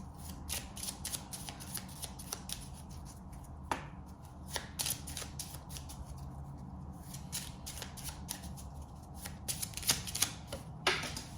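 Tarot cards being shuffled for a reading, a steady run of soft papery riffles and flicks with sharper snaps scattered throughout, close and fairly quiet, with no talking.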